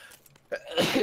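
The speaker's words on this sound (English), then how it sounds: "Oh, double sneeze." A double sneeze from a player during a PUBG squad session, two close bursts in quick succession near the microphone, the second louder and fuller than the first, with no talk over it.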